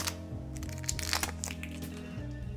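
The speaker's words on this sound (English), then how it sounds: "Classic plastic cap crack there." The plastic cap on a bottle of Old Grandad bonded bourbon cracks open in a quick series of sharp, close clicks and crinkles, heard over a steady background music bed.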